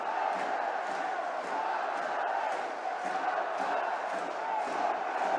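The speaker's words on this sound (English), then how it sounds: "Lightning fans still clapping, still shouting, still singing for their team" Ice hockey fans of the MK Lightning in an arena clap, shout and sing together, a dense, steady roar of crowd noise that fills the space without pause for several seconds.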